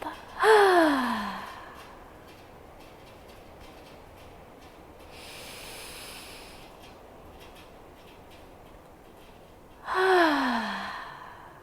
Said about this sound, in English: Deep inhale in through the nose. Audible exhale out the mouth.